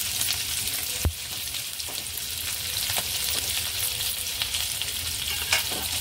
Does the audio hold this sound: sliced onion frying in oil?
yes